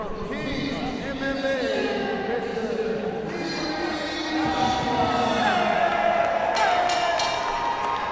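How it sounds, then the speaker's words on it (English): Crowd cheering and applause for an MMA fighter being introduced at a live fight event, a loud, steady roar with whistles that swells through the middle and holds to the end. "Big applause for Tapia."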